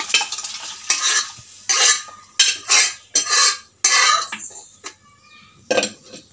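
Mashed jackfruit seeds added to a pan and stirred, a series of loud close bursts of spoon scraping and clattering against the metal in uneven strokes, with brief pauses and faint sizzling between them.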